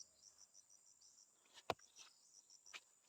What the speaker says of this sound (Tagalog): Basta ano, hapon, daming lumalabas na insekto dito.